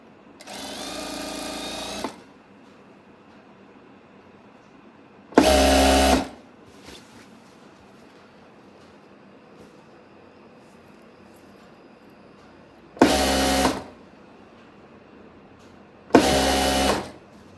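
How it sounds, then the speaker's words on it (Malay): A sewing machine stitches lace trim along the hem of a telekung prayer garment in four separate loud runs, each a few seconds long, with quiet pauses between them. "Teruskan menjahit render di bawah telekung sehingga habis."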